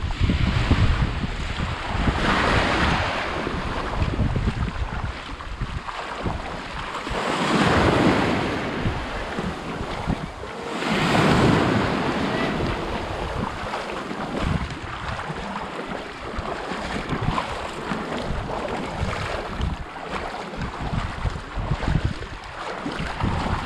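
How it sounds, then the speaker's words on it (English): Ocean waves rolling onto a sandy beach at Goose Rocks Beach in Kennebunk, Maine as the tide comes in, loud continuous surf with swelling surges and heavy wind rumble on the microphone. "So the tide's coming in, water's getting a little bit colder."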